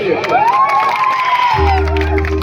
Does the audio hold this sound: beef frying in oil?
no